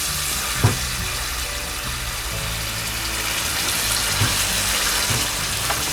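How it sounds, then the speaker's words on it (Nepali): Water from rinsing tomatoes poured into a pan of frying masala for asparagus curry, a steady close sizzle and splashing hiss running throughout with a couple of small clinks. "अब यसमा मैले यो टमाटरकै पखालेर पानी राख्दैछु"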